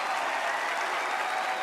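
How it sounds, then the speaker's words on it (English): Audience applause at a talent-show audition, a dense steady clatter of many clapping hands that stays loud and even for the whole stretch with no voices. "Give a big round of applause"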